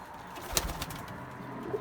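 Fantail pigeons coo softly in a loft, faint low murmuring calls with one brief sharp sound near the middle, all quiet and close.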